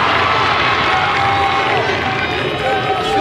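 Crowd noise at a Loyola versus Johns Hopkins college lacrosse game, a steady broad roar of cheering spectators filling the stadium, loud and continuous with no break.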